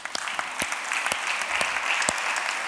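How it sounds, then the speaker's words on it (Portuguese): A church congregation applauds in a steady, moderately quiet patter of clapping, with a few sharper claps standing out near the listener. "Zé, vou aplaudir com você."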